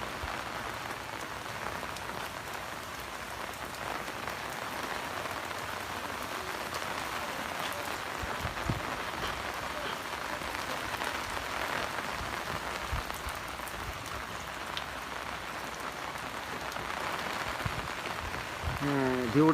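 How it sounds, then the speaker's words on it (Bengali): Steady rain falls outside on a hot day, a dense, even hiss of drops on surfaces that continues throughout, with someone talking quietly over it in places. "তো আলহামদুলিল্লাহ বৃষ্টি হইতেছে"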